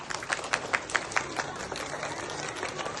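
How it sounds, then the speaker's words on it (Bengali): An audience claps at a prize-giving ceremony for handwriting and art competitions: a short, fairly quiet burst of applause with a few sharper claps early on that soon settles into a softer patter. "পেট্রা গ্রুপের জন্য জোরে হাততালি দেয় সবাই"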